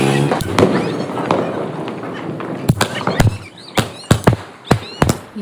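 Diwali pop-up firecrackers and fireworks go off outdoors in a string of sharp bangs and pops, some sharp and close, over a busy crackling background with people talking throughout.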